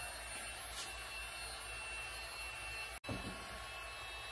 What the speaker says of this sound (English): So we will warm the area around the hole with the heat gun.